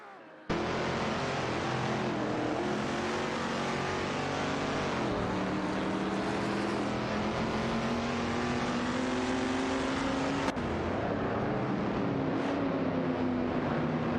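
Engines of a Ferrari and a vintage Lincoln Continental drone continuously in a racing video game, a steady loud whine shifting pitch through gear changes, with a sharp click partway through.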